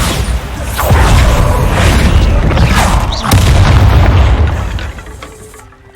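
A Bombarda blast spell explodes in the Hogwarts Legacy video game, a loud, dense rumbling boom with bursts of crackling debris that swells, surges again midway, then fades out near the end.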